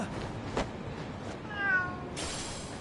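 A cat meows once in the action video game Lost Judgment, a short, faint, wavering cry over a low game background hum.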